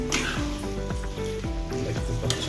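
Fish pieces coated in spice masala fry in an oily pan, giving a loud, continuous sizzle and crackle, with occasional stirring scrapes, close up and without talk.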